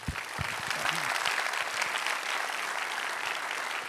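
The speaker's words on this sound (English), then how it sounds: "So a big round of applause for those sponsors." Conference audience gives a big round of applause for the sponsors at a code talks 2018 welcome, dense steady clapping from many hands filling the room, a few louder claps at the start.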